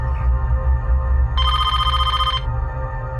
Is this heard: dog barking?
no